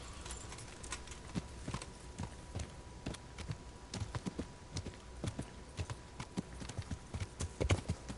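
Rhythmic clip-clop of horse hooves walking steadily on a hard surface in the video game Kingdom Come: Deliverance, close and fairly quiet, continuing throughout.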